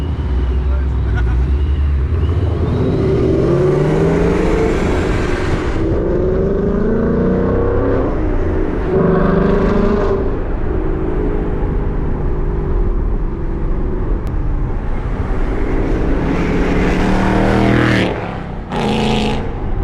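A loud supercharged Ford Mustang engine roars and pulls hard, its pitch climbing in long sweeping waves, with a high supercharger whine over it and a brief rise near the end.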